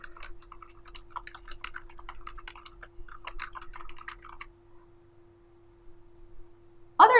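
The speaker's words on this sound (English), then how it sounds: "you may simply want to highlight the section and type in new content" Rapid keyboard typing of text on a computer, close and clear for about four seconds, then a quiet pause and a brief louder knock at the very end.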